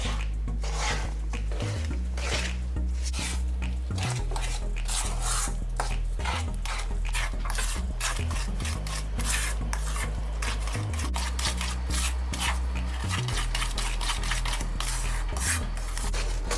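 A sugar and condensed milk fudge mixture being stirred continuously in a pan over medium heat, with a steady rhythmic rubbing and scraping of the utensil on the pan and a low hum underneath. No one speaks.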